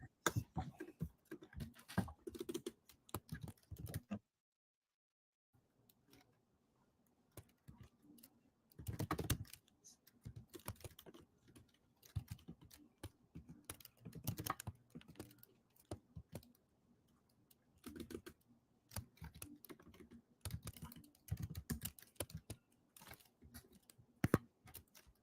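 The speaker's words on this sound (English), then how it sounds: "And as I'm typing" Someone types on a computer keyboard in irregular bursts of quick, light key clicks and taps, with one brief pause near the start and occasional louder keystrokes, heard fairly close and alone.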